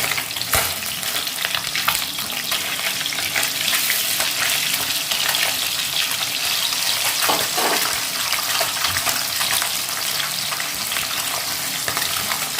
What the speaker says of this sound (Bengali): মাছটা বেশ কড়া করে ভেজে নেব।